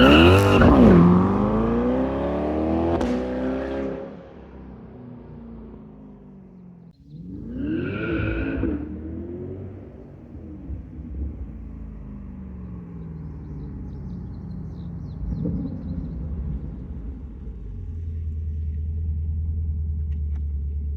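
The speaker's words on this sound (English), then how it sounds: "do the little launch and the new exhaust" A Corvette with a new exhaust launches hard from a standstill on a street, engine rumbling loud and close as the rear tires squeal and break loose, then settles into a steady idle rumble.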